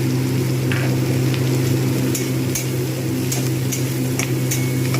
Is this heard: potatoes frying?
yes